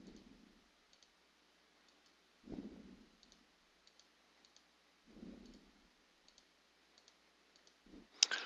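Keys on a graphing calculator keypad are pressed in faint, sparse clicks, quiet single taps spaced through a near-silent room with soft rustling in between.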